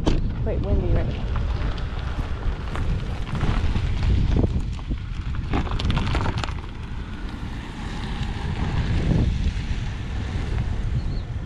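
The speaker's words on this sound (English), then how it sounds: "Bear with the wind, guys. Quite windy right now." Strong wind buffeting a microphone outdoors beside a 2022 Genesis GV70 3.5T, a steady roaring rumble throughout with gusty surges, while someone talks over it.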